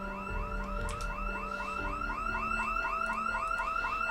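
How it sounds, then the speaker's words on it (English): A car alarm in the Project Zomboid video game wails continuously, its repeating rising electronic whoops cycling steadily and loudly with no talk over it. "Of course, an alarm goes off."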